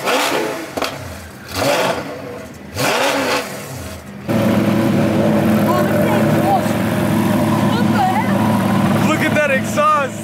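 Voices talk briefly before a Ferrari F12 Berlinetta engine roars in nearby at a supercar meet, its exhaust droning loudly and steadily with revs rising toward the end.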